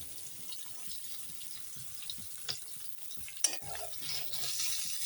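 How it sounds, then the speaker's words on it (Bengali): Paneer pieces fry lightly in a pan with a soft, steady sizzle, broken by a few sharp clinks and stirring scrapes of a utensil, with no voices. "পনির প্রায় ভাজা হয়ে এসছে একদম বেশি ভাজবো না হালকাই ভাজবো"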